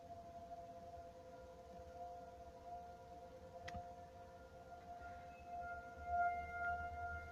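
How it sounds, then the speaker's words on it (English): Outdoor tornado sirens wail steadily during a siren test, sustained tones drifting from a distance over faint ambient noise with no talking. "Sirens are going off."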